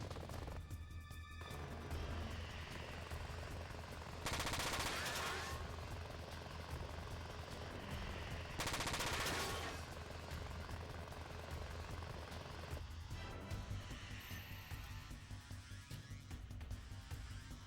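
Constant heavy helicopter rotor roar fills the scene in the video game Front Mission 4, with dense bursts of gunfire and loud explosive blasts breaking through twice; no talking.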